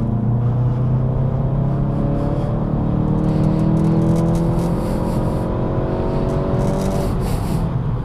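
A VW Golf GTI with a six-speed manual pulls at full throttle in third gear from about 2000 RPM, the engine tone rising steadily under a constant loud cabin rumble with no speech.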